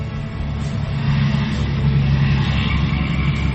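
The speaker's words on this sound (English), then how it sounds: "that was just a big truck that went by" A big truck drives past close by, a loud steady low rumble that swells slightly and holds for several seconds with no talking over it.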